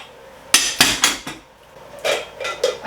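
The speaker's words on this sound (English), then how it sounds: "Yes, I am doing dishes." Dishes, pots and cutlery clattering as a dishwasher is loaded at home, several sharp loud clanks in quick succession with a pause, then a few more knocks, no voices.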